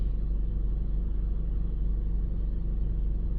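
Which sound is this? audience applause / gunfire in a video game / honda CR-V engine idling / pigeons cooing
honda CR-V engine idling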